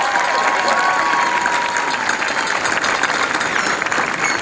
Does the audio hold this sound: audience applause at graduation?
yes